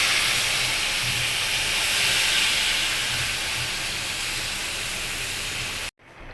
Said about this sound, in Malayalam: അപ്പോൾ നമുക്ക് കുറച്ച് വെള്ളം ഒഴിക്കാം.